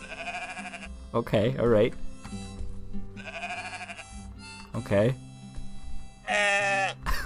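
Loud sheep bleats from a video game, several distinct baas in bursts with varied pitch, heard alongside a man's brief spoken remarks.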